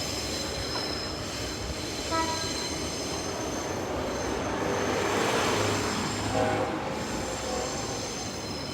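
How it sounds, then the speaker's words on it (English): Trains rumble through a busy station in Brisbane, Australia, wheels squealing and screeching along the rails amid a steady, busy mechanical roar. "Very busy railway station."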